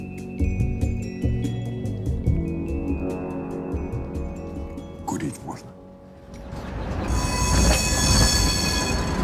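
A tram rumbles and clatters past up close, its wheels squealing loudly on the rails as voices sound nearby.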